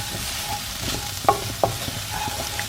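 Chorizo and peppers fry in olive oil with a constant crackling sizzle and a couple of sharp utensil knocks midway through.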